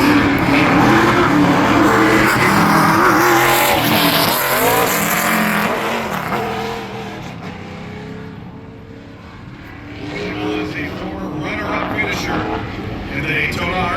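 A Toyota ARCA race car heads out for a qualifying lap at Berlin Raceway, its engine roaring loudly and then fading into the distance, while a commentator talks over it the whole time.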